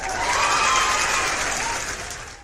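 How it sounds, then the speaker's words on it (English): A round of applause from a group, a dense burst of clapping that swells and then fades out over a couple of seconds. "One more time, round of applause for you guys."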